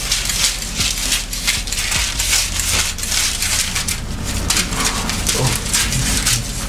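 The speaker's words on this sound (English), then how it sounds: "now let me quickly cut it before my camera dies" Scissors or shears cutting through fabric along a drawn straight line while making a wrap skirt, a steady run of close crunchy snips and rustling with no talking.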